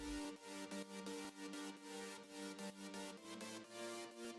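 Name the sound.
second synthesizer chord layer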